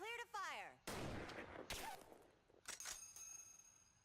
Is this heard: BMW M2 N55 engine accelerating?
no